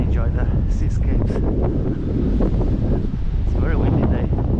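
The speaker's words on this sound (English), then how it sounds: "It's a very windy day" Strong coastal wind at Deer Island roars steadily across the microphone throughout, a constant loud buffeting rush with faint voices underneath.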